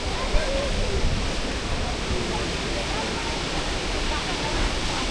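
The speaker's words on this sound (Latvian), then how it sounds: "Paskatīsimies uz ūdenskritumu labā pusē." A waterfall in Bavaria roars as a steady, dense rush of falling water, loud and continuous throughout, with no pauses or other sounds rising above it.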